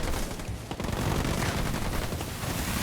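Sniper gunfire in the Halo Wars 2 video game, dense overlapping shots and battle noise in a loud continuous barrage, no talk.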